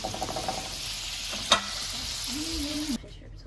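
Shrimp and scallops searing in butter in a pan make a close, steady sizzle, broken by one sharp clink of a utensil, before the sound cuts off abruptly.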